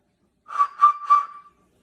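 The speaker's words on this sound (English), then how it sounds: "there's a little bird sitting here, and his tail is a whistle" Three short whistle blasts from a bird-shaped ceramic whistle in quick succession, bright and clear at one steady pitch, the last trailing off, close and alone.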